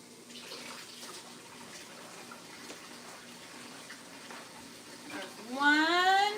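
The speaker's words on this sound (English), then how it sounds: "Let me go ahead and get the water, sink water." Water runs steadily from a kitchen sink tap in a home kitchen during a pickled jalapeño canning session, a soft continuous rushing hiss, with a voice rising briefly over it near the end.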